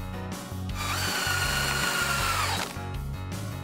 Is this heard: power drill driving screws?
yes